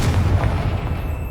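A Confringo explosive spell goes off in the video game Hogwarts Legacy, a deep, rumbling boom that holds loud and steady for about a second and a half without fading.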